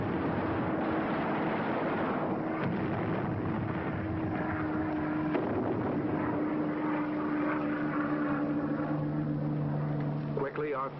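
World War II fighter aircraft with propeller engines, from 1945 combat footage, droning steadily throughout with engine pitch shifting as planes pass, under continuous narration.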